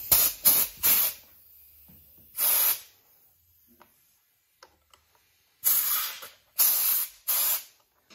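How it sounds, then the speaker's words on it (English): Several short bursts of brake cleaner aerosol spray, hissing sharply in quick pulses, then a pause of near silence before three more bursts. "And Kev used a bit of brake cleaner before, just to help get the original part off"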